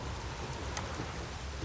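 Steady rain from a storm in the video game The Witcher 3, a continuous hiss of falling drops with a faint low rumble beneath, even and unbroken throughout.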